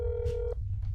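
A phone number is dialed in the video game That's Not My Neighbor: a single steady keypad tone lasting about half a second, then a short soft click, all close and clean.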